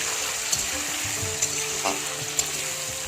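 Potatoes fry in a pan with a loud, steady close-up sizzle, a few sharp spoon taps and crackles popping out above the hiss, and no speech.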